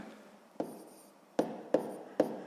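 Pen strokes writing a math answer on paper, heard as a few short, close scratching taps spaced out over quiet room tone, with no talk.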